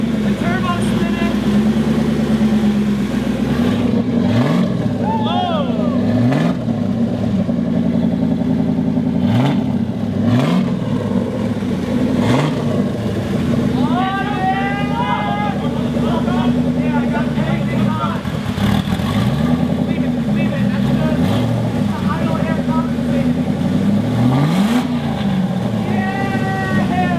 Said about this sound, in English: The turbo's spinning.